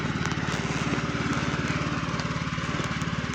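A Husqvarna riding lawn mower's engine runs close by, a loud, steady, rapidly pulsing drone that holds without a break throughout.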